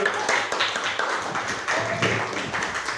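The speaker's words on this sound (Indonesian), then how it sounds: "yuk beri tepuk tangan dulu buat kelompok 1" Classroom audience at a teacher-training performance exam applauds the first presentation group with a steady patter of hand claps and a few faint voices mixed in.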